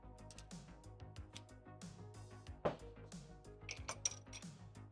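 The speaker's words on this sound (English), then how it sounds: "And we're gonna stir that bad boy up. Stir, stir, stir." Spoon clinking against a glass as an Old Fashioned cocktail is stirred, a run of bright metallic ticks and taps with one sharper knock near the middle, close and fairly quiet.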